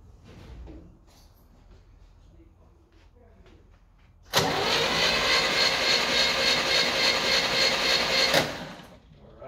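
A 1964 Chevrolet Impala engine cranks over with its spark plugs removed, a loud steady whirring churn of the starter that starts abruptly, runs for about four seconds without firing, then cuts off.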